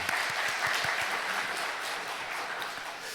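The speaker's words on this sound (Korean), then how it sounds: "하나님께 박수 올려드리겠습니다" A church congregation applauds during a Sunday worship service, a steady wash of many hands clapping together at moderate loudness, sustained and even for the whole stretch with no voices over it.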